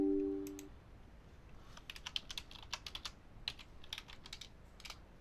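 Quiet, close typing on a computer keyboard in bursts of rapid key clicks with short pauses, following a brief faint tone at the start, with no voices.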